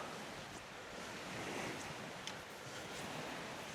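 Wind-driven waves wash continuously on a reservoir, a faint, even hiss of surf and wind noise with no distinct breaks.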